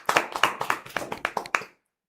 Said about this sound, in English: A round of applause for Madam Joan